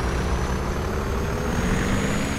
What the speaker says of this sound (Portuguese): É pra vocês apreciarem um pouco melhor o som do jogo,